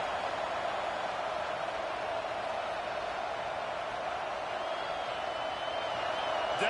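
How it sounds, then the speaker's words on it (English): Football stadium crowd at an NCAA game roaring on third down, a steady wall of loud, distant cheering noise held throughout with a broadcast voice faintly beneath. "Decibels rising as the crowd gets behind this defense on third down"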